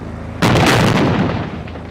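A special effects fire blast on a film set, a single sudden loud whooshing boom that erupts and then slowly rolls off over about a second and a half, heard alone.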